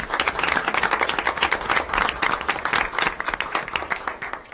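Applause from an audience of parents at a school board meeting, many hands clapping in a dense, steady patter that fills the room throughout.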